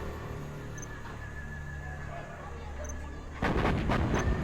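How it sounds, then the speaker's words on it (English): Artillery barrage in the video game Command & Conquer: Generals, a sudden cluster of heavy booming impacts near the end after a quieter stretch of game ambience and faint tones. "I've just used the artillery barrage at level 3 on this building here"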